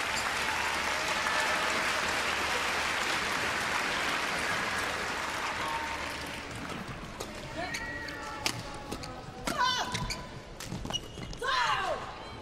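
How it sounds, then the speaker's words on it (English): Crowd applause fills an indoor arena during a women's doubles match at the 2011 Badminton World Championships. The applause is steady at first, then fades, leaving sharp court squeaks and thuds under a commentator's voice. "A lot of applause you can hear."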